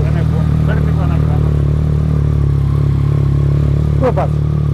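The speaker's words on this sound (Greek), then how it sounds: "δοκιμάζω τη μηχανή και έρχομαι" Motorcycle engine running steadily and being tested, a constant close drone with a brief rev near the end, under voices talking.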